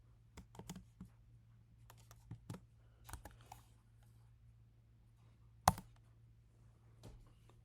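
Computer keyboard typing, sparse clicks and small clusters of keystrokes close by over a low steady hum, with one sharper key strike standing out.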